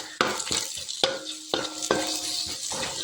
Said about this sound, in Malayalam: ശകലം മഞ്ഞൾപ്പൊടിയും കൂടെ ഇട്ട് നമുക്കൊന്നുകൂടെ ഒന്ന് ഇളക്കാം